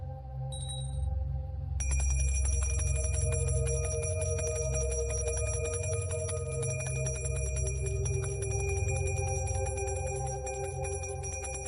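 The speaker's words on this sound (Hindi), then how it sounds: "अब वो घंटी है ना, बजा।" A small bell rings with a bright, sustained metallic tone, struck repeatedly so the ringing keeps going, close by over a low steady hum.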